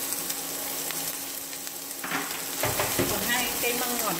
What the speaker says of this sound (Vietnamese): còn bây giờ mình sẽ xào nhé